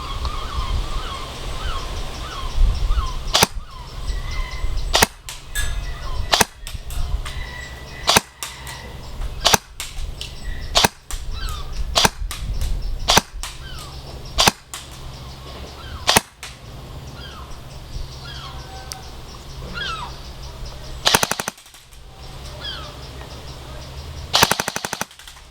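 An Ares Amoeba AM-014 suppressed airsoft rifle firing outdoors: sharp snapping shots in singles and quick bursts, spaced irregularly over a steady background of birds and a crow calling.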